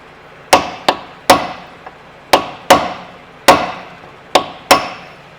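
Metal socket bar hammered against a seized brake caliper on a car, nine sharp, ringing metallic strikes at an uneven, steady pace, close and loud, with no talk.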